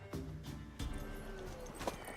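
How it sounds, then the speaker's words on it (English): A horse's hooves clop a few times at an unhurried pace in The Witcher 3, soft and fairly distant over a low ambient background. "Worthy of the best horse. The mare is yours."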